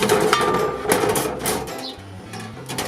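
A metal grate on a kamado grill is shifted, giving several close, sharp metallic clanks and scrapes over a few seconds with no talking.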